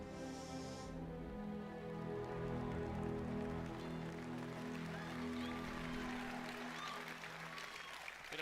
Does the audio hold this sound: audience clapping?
yes